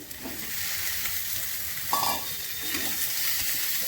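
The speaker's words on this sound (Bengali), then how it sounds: "ভাজা পটলগুলো দিয়ে দিচ্ছি" Fried pointed gourd pieces tipped into a hot pan of spiced oil with grated ginger and ground spices, giving a steady loud sizzle with stirring scrapes and a brief sharper hiss as they land, no talking.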